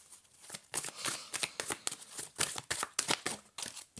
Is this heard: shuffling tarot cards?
yes